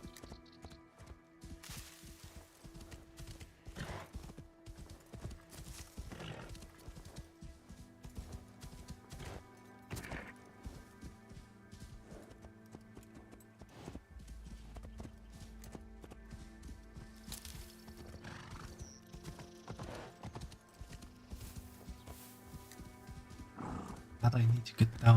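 Hooves clip-clop steadily from a horse ridden through forest in Assassin's Creed Shadows, quiet rhythmic thuds under game music and occasional animal sounds.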